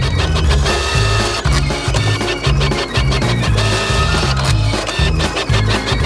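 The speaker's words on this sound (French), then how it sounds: "C'est comme une imprimante 3D, mais pour des choses délicieuses" A pancake batter printer runs in a kitchen like a 3D printer, giving a loud, steady mechanical whirring with rhythmic pulsing motor strokes and stepping buzzes repeating throughout, with no voices.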